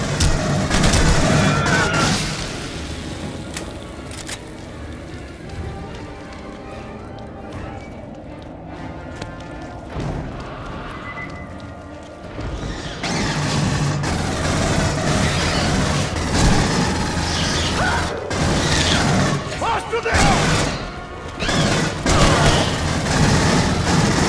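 Sustained gunfire and explosive booms from Aliens: Colonial Marines, dense and loud throughout, with a quieter stretch in the middle before the shooting swells again, mixed with shouted voices.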